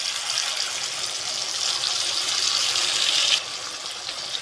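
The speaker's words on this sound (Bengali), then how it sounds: "বাটি ধোয়া জলটা দিয়ে দেবো।" Water used to rinse a bowl is poured into a pot of potato curry in a continuous, close splashing stream that cuts off sharply after about three and a half seconds.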